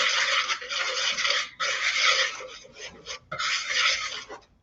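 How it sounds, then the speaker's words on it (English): Whisk scraping through baking soda and salt in a bowl: three close bursts of brisk rasping strokes broken by brief pauses. "Oh, that's my whisk."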